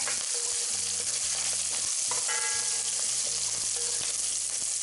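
Dried, bruised thyme sizzles in hot oil in a pan, a loud, steady crackling fry that fills the whole stretch, with a few light stirring knocks and no talk.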